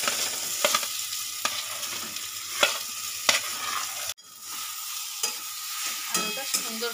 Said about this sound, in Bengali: আলুটা সুন্দর করে ভালো করে কষিয়ে নেব।